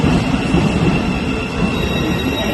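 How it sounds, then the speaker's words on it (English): A London train rolls along with a steady, loud rumble of wheels and carriage noise, with no voices and no letup. "getting this train and then having to take a tube at the other end"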